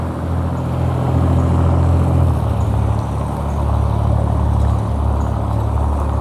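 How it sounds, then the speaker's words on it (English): A loud car drives past a 1914 former high school building in Plant City, its engine rumbling steadily and shifting pitch midway as it goes by, close and prominent with no talk. "Ooh, loud car."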